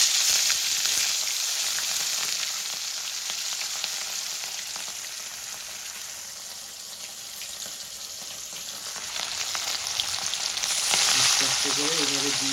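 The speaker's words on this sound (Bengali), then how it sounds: "আমি মাছগুলো ভেজে নেব" Pieces of katla fish frying in hot oil in a wok, a steady loud sizzle that runs without a break, with a brief clink or stir near the end.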